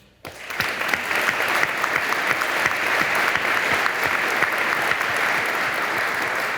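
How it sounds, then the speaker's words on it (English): Audience applause at the 91st Missile Wing change of command ceremony at Minot, a dense sustained clapping that swells after a short quiet start and stays loud and steady throughout. "I'd just like to give a round of applause to everybody from Team Minot"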